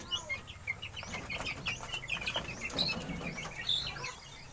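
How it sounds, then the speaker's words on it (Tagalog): Many small chicks peeping and chirping at once beside their pen, a busy stream of high, short calls with occasional lower clucks nearby. "Yung mga sisiw."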